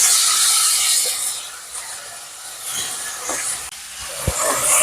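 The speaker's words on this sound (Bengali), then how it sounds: "এবার আমি মাংসগুলোকে ছেড়ে দিই।" Chicken pieces dropped into hot spiced oil in a cooking pan give a steady, close sizzle and hiss with a few brief clinks and scrapes.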